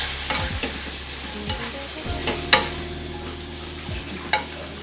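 A utensil stirs cooked broccoli in oyster sauce in a pan on the stove, with soft repeated scraping and knocking strokes and a few sharp clinks over a low steady sizzle.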